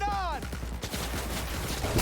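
Gunfire in Cyberpunk 2077: a rapid burst of close, punchy shots over a short stretch, mixed with a voice and a descending electronic tone at the start.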